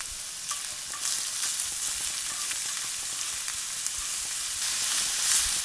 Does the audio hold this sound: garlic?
yes